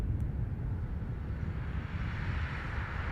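Ryanair airliner taking off at Dublin Airport, its jet engines a steady broad roar and low rumble heard from a distance, continuous throughout.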